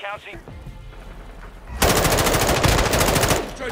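Rapid automatic gunfire in a Modern Warfare 2 match, loud and continuous for about two seconds after quieter game sounds and a brief voice at the start.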